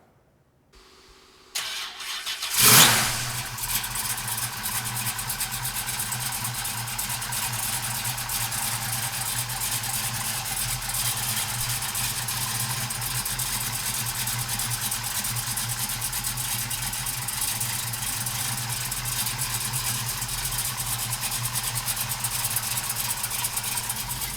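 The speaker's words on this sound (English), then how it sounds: "So come on up and we'll fire this big block up." A 1968 Chevrolet Camaro's 454 big block V8 cranks and fires with a loud bark, then settles into a steady, throaty, lumpy idle that carries on for over twenty seconds, close up.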